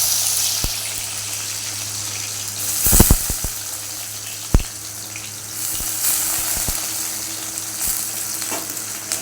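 Chopped onions sizzling and frying in oil in a pan for Tamil-style chicken varuval, a steady close crackle with a cluster of sharp stirring clinks around the third second and a few more scattered later.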